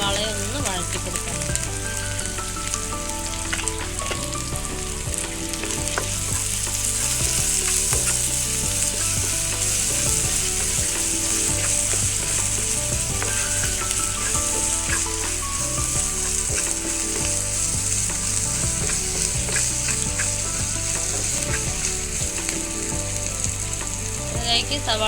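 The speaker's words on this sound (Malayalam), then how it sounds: "ഇതിലേക്ക് നമുക്ക് ആവശ്യത്തിന് ഉപ്പ് കൂടെ ചേർത്ത് സവാളയെ ഒന്ന് വഴറ്റി കൊടുക്കണം" Finely chopped onions with salt sauté in a hot pan, giving a loud, continuous close sizzle with occasional stirring scrapes and clinks throughout.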